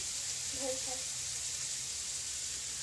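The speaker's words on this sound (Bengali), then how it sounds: "এখন আমি বিনস আর আলুগুলো ভেজে নিচ্ছি" Beans and potatoes frying in a pan give a steady, even hiss of sizzling oil throughout, with a faint voice briefly murmuring near the start.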